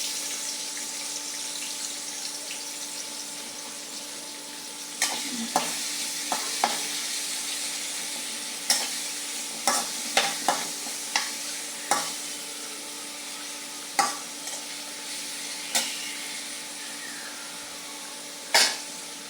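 Green chili and chopped onion frying in oil in a wok for a pumpkin and pangas fish curry, a continuous sizzle broken by repeated sharp scrapes and clanks of stirring, no voices.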